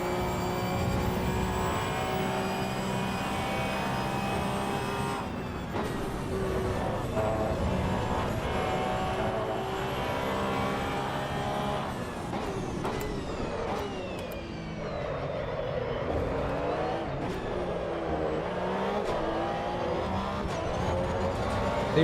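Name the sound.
car driving on track in Assetto Corsa Evo video game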